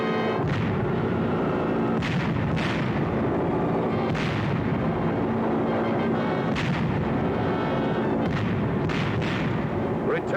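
Bombs exploding during a WWII B-24 bombing raid over Messina, Sicily: a dense rumbling barrage of repeated booms and blasts, roughly six sharp bursts over constant heavy roar, loud and continuous.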